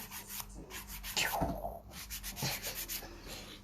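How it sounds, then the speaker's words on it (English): A nail file rubbing back and forth across long stiletto-shaped nails, producing soft close sanding strokes in an uneven rhythm, with a few louder swipes. "Your filing is even all the way round."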